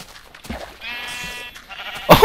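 Sheep bleating in the video game Minecraft, a drawn-out wavering bleat in the middle of the clip followed by a louder, sharper bleat at the end, with soft game noises underneath.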